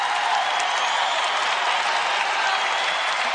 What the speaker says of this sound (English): And the crowd is on its feet here in Williams Arena